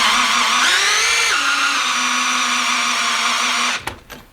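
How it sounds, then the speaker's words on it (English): Close, loud cordless power drill whining steadily as it spins a heim joint adjuster down on the front end of a 1999 Harley-Davidson FXST during a lowering job; pitch shifts slightly early, then holds until it stops abruptly near the end. "I'll grab my drill here and just zip this thing down."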